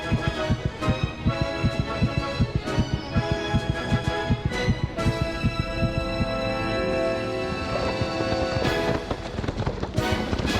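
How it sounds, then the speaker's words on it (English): A racehorse's heartbeat racing during a race, rendered as rapid, loud, deep rhythmic thumps over a droning hum, steady and close without talk. "his heartbeat has soared from 40 beats per minute to over 250"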